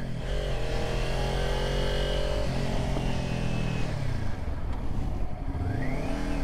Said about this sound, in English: my exhaust sound pretty good for being only a 400 bike